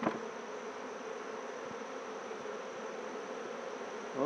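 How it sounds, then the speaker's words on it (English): Dense, steady hum of many honeybees crowding a hive during an inspection, a continuous close buzz holding at even loudness throughout with no talking. "Oh boy, there's a lot of bees in there now"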